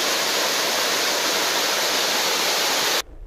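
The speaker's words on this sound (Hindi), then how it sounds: "यहाँ झरने की कलकल करती आवाज़ यहाँ आने वाले दर्शकों का मन मोह लेती है।" A waterfall near Chandrakeshwar in the Vindhyachal hills of Dewas roars as a dense, steady rush of falling water, loud and close, cutting off abruptly just before the end.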